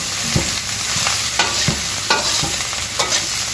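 Basmati rice and vegetables for chicken fried rice are tossed and stirred in a hot pan, with loud, rhythmic scraping strokes repeating every half second or so over a continuous close sizzle.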